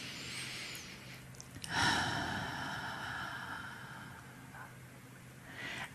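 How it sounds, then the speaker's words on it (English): A long, audible inhale during a guided calming meditation, rising into a breathy rush and then holding steady, close to the microphone and fairly soft, with a faint tonal hum beneath it. "And have another breath in."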